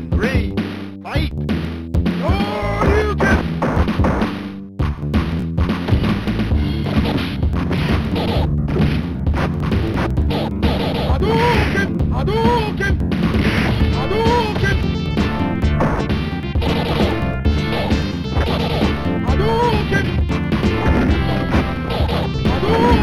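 Street Fighter II' Champion Edition arcade action, Bison versus Ryu, with a dense stream of hit and smash effects over game music and announcer voice samples, loud and continuous.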